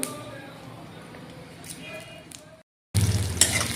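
Vegetables, onion and green chillies frying with panch phoron and bay leaf in mustard oil in a wok, a quiet sizzle with light stirring. It breaks off briefly and then returns louder with a burst of frying.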